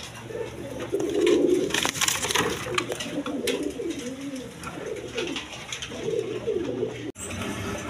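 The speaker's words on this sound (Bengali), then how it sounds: "দর্শক এইখানে আরেক পেয়ার কবুতর আছে" Big Rajgolla pigeons in a cage give repeated soft, low cooing calls nearby, with faint wooden knocks and shuffles in the background.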